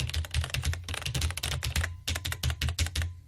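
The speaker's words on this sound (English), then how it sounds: "That's the sound of the keyboard." Fast, loud clacking of an old computer keyboard: dense bursts of sharp keystrokes with short pauses between words, close to the listener, with no talking.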